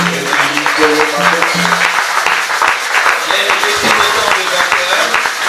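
A church congregation applauding loudly after a closing prayer, dense sustained clapping mixed with cheering voices throughout, close and full.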